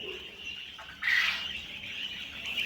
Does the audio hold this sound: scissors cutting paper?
no